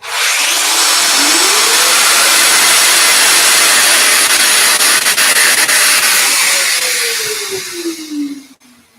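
Festool Domino joiner cutter whining as it spins up, holding a steady loud high-pitched run for several seconds, then winding down as it is switched off.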